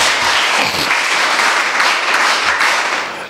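An audience applauds athlete Mamata Pujari at a school event in Hebri, a dense, loud burst of clapping that holds steady for a few seconds before tapering off.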